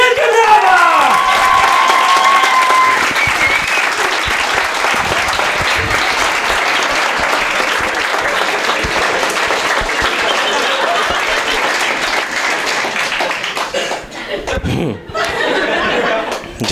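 A comedy club audience bursts into loud, sustained applause for a stand-up comedian, with scattered laughter on top, and the clapping thins out near the end.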